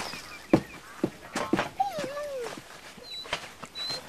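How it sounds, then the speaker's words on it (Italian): A puppy whimpering indoors, thin rising and falling whines with a few soft thumps and rustles, faint and close, with no speech. "Ma prima dobbiamo scoprire di chi è questo cagnolino"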